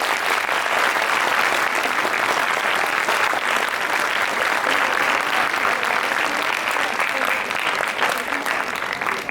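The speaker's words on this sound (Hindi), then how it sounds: "उनके वेलकम के लिए एक बार तालियां जोर से बजा दी जाए" An audience at a birthday commemoration gathering for Bhagwan Dev Atma applauds loudly to welcome the chairperson, a long, steady roar of many clapping hands that holds evenly before tapering at the very end.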